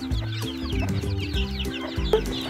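A hen with her chicks clucks steadily inside a chicken cage, low repeated clucks in a close, busy rhythm mixed with faint high peeping from the chicks.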